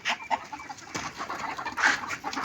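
A rooster makes a short burst of calls and clucks close by, brief and fairly loud over a quiet background.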